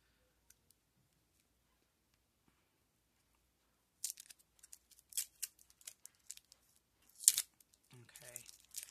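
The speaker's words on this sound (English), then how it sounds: "If I can get the tape off." Tape being pulled and peeled off a prize mail package holding a gel polish, sharp crinkling and tearing bursts after a near-silent stretch, close up, with a voice briefly speaking.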